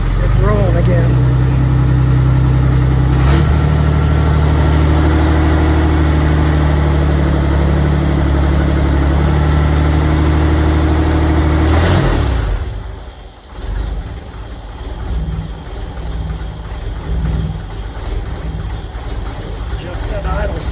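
A Chevy cab-over van engine idling with a loud, steady low rumble that shifts and drops in tone partway through, then settles into a rougher idle.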